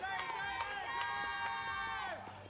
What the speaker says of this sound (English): a round of applause for everybody who helped this team to that amazing performance